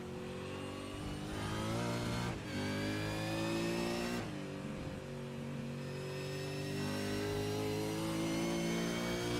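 A race car engine in a sim racing game at Road America holds a steady high-pitched drone, with brief shift dips and sustained revving throughout, loud and alone.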